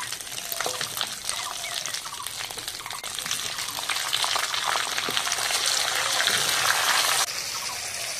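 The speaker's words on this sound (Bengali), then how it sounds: "ওই তেলের মধ্যে টমেটো কুচিটা দিয়ে দেবো।" Chopped tomato dropped into hot oil for biryani, a loud, steady, close hiss of frying that swells slightly and holds without a break.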